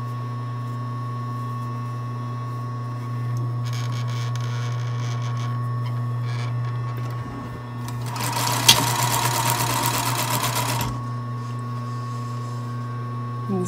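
A sewing machine stitches one long seam on a tiny orange sweater, its motor humming steadily, close and clear, with a louder, busier burst of rapid needle chatter toward the end.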